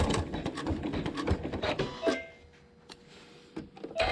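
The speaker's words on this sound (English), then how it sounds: "Stitch my seam." Sewing machine stitching a quilt block seam, with a fast, steady mechanical rattle up close for about two seconds, then stopping to quiet handling noises and light clicks.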